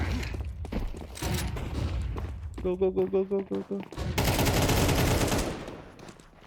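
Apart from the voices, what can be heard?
gunfire in Counter-Strike video game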